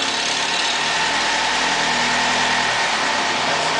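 A Land Rover Series 1 80-inch, cold after several days, runs close by with its engine idling at a steady rough chug and rising slightly as it revs.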